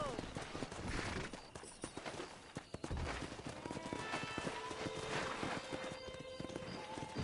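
Hooves of a pack of wild horses clatter in a rapid, uneven gallop in the video game Red Dead Redemption, loud and close with sharp gunshot-like bangs and voices mixed in.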